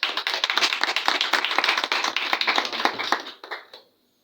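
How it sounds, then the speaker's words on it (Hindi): A church congregation claps together after a sermon's closing prayer, a dense run of many hands beating fast and close for about three and a half seconds before tapering off into a few scattered claps and silence. "जोरदार तालियां चाहिए"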